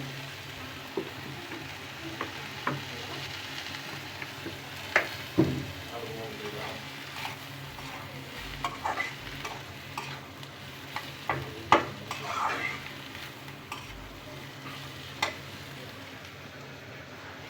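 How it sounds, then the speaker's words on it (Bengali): Eggs frying in oil in a pan on a stovetop, with a steady sizzle, scraping stirs and occasional sharp utensil clicks throughout, close and fairly quiet with no talking. "আর এদিকে আমি ডিমটা ভুনা করে নেই, কারণ দুইটা চুলা দুই দিকে বসায় দিচ্ছি।"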